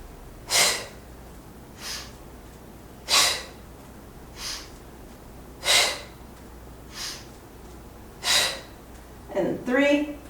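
Rhythmic breathing during a Pilates exercise class: six sharp, evenly spaced breaths roughly every 1.3 seconds, close and clear, ending with a brief breathy vocal sound.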